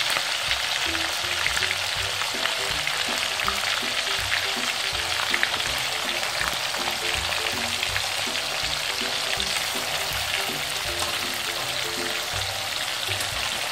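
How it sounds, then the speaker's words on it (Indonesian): Pre-boiled jackfruit pieces fry in a pan of oil with a steady, dense sizzle and crackle, close and continuous, with occasional stirring scrapes. "Untuk penggorengannya kita tidak terlalu lama karena buah nangkanya sudah saya rebus terlebih dahulu."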